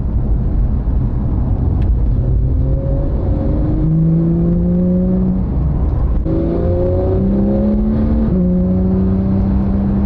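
Porsche GT3 with its 4.0 engine revving hard while driving, loud and close, with repeated rising and falling rev sweeps over steady road and cabin noise.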